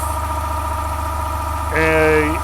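A Sanden 508 AC compressor converted to an onboard air compressor on a Mitsubishi Mighty Max, a steady close mechanical hum with a tonal whine that rises and strengthens near the end.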